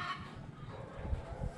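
Chickens in a coop cluck faintly in the distance under a low background rumble and some handling noise, with occasional soft calls.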